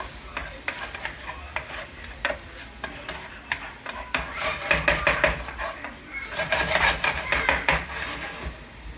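Ginger sizzles and fries in a hot pan for a pork chop dish, with frequent scraping stirs and utensil clicks, the sizzle swelling louder in bursts toward the middle and end.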